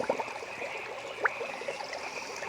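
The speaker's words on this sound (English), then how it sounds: "Same creek that I used to filter the water last time" A small creek trickling and burbling steadily nearby, with a few brief splashy drips standing out over the flow; no voices.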